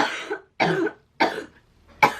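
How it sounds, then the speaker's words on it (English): Four harsh coughs in a row, each a short burst with brief pauses between, close and fairly loud. "every 30 seconds or so I run out of breath and then I'm having to stop and like cough my lungs up"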